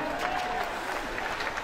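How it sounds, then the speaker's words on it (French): Spectators in the grandstands at a cycling endurance event at Le Castellet applaud the riders, a brief burst of crowd clapping under someone talking over a loudspeaker. "Allez, tous ceux qui sont dans les tribunes, on les applaudit."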